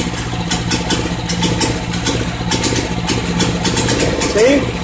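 A biogas-fuelled generator engine runs steadily and loudly close by, a continuous rumbling drone with a faint chugging pulse, while someone talks over it.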